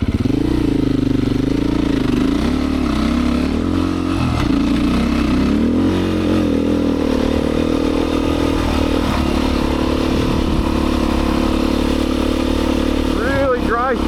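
A Beta 500 dirt bike rides through loose, dry sand, its engine roaring loud and close for the whole stretch with pitch rising and falling under throttle and a brief rev near the end.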